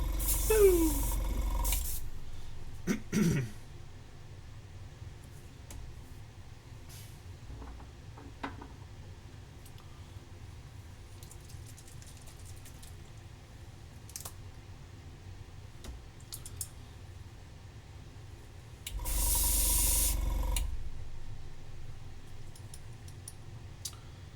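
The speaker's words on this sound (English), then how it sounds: "Let's do a little bit of airbrushing, shall we?" Two short bursts of airbrush spray, each about two seconds, hiss loud and close at the start and again near the end, with quiet room tone, faint clicks and ticks in between.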